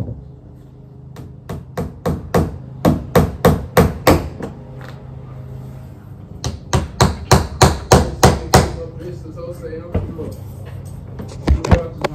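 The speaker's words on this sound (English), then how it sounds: "nailing this area off to try and keep the dust in one location" Nails are hammered into a wood-floored room to fix up a dust barrier, with several bursts of rapid, loud, close hammer strikes in quick rhythmic runs separated by brief pauses.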